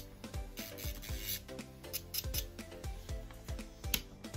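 Gel nail extensions are filed and smoothed with a small power bit, giving quiet, close, rhythmic rasping and grinding strokes that repeat quickly for a few seconds without speech.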